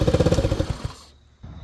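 Motobravo Roma 150cc scooter engine idling roughly, a loud uneven chugging with a stumbling rhythm that fades and drops out for a moment before picking back up.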